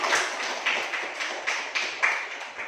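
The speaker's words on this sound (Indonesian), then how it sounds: "Sekali lagi berikan tepuk tangan ya." Applause in a classroom for a student's answer: light, fairly quiet clapping from a small group, with a few sharper claps standing out over about three seconds.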